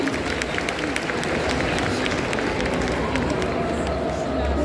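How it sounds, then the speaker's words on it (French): Audience applause at a cosplay contest during a convention show in Paris, a steady, fairly distant crowd clapping with some cheering and babble mixed in. "on peut l'applaudir encore une fois s'il vous plaît"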